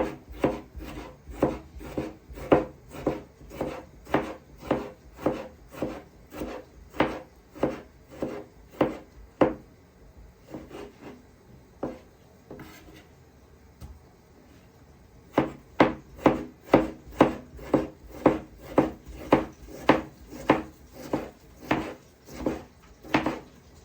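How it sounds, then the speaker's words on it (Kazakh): Steady rhythmic knife chops on a cutting board, slicing tomatoes in two long runs separated by a brief pause of softer, irregular cutting. "Қызанағымызды тонкий етіп турап аламыз"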